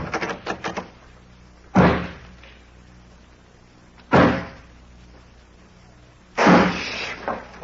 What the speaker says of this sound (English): I'll lock this door on the outside.